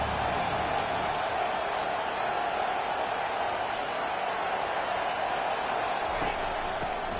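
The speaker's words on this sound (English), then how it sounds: "Decibels rising as the crowd gets behind this defense on third down." Football stadium crowd roaring during a college game as the defense faces third down, a dense, steady wall of cheering and noise filling the whole clip with no pauses.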